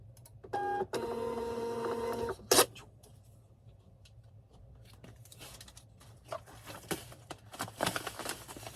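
A printer whirs and chatters loudly for a couple of seconds, then a sharp clunk, followed by quieter clicks and shuffling sounds in a still room.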